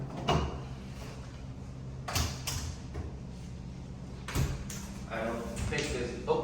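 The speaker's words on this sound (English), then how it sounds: "Another drawer right here." A drawer slides open in a resort hotel room, producing a few soft sliding thumps and a light knock while a person talks over it.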